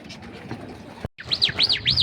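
Pigeons in a loft, a pair shut in for breeding, give repeated arching calls that rise and fall three times in close succession, loud and near, after a brief gap following softer bird noise.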